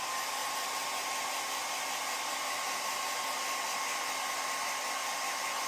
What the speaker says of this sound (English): we're going to pop over here to our fancy blow dryer that we got at the thrift store for 99 cents